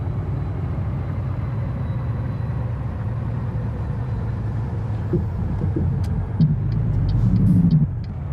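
A truck with a very light load of about 6,500 pounds drives in American Truck Simulator, its engine a steady low drone throughout. A few brief clicks and a louder rumble near the end sit on top, with no talk.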